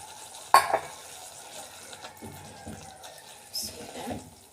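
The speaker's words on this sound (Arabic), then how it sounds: "هنزل بقى بالفول ان شاء الله كده" Fava beans tip into a pan of tomatoes with a sharp clatter, followed by soft scraping stirs and a faint sizzle, close and moderately quiet.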